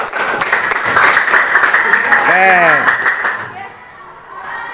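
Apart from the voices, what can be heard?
class applauding a student group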